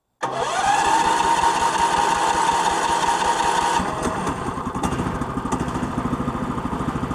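A Snowdog motorized snow vehicle with a studded track starts abruptly without choke and settles into a loud, steady buzzing idle close by, the engine note shifting to a rougher, pulsing rhythm partway through.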